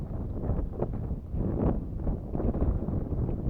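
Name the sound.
strong wind blowing into microphone while fishing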